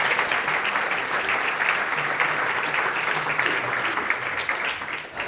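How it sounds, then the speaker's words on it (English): Audience applause at a talk on climate and drought rises as a dense, steady wash of clapping, loud and sustained for several seconds before thinning slightly at the end. "Let's give them a round of applause for getting through the"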